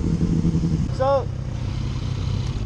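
Yamaha FZ-09 motorcycle ridden on a race track, a steady engine drone with a brief rising whine partway through, heard from onboard.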